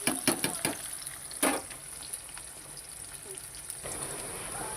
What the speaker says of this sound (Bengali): আর দেখো পেঁয়াজ ভাজা বসিয়েছি